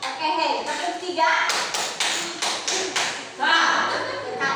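A class claps together in a steady rhythmic pattern, about six crisp claps in a row, framed by children chanting and talking before and after.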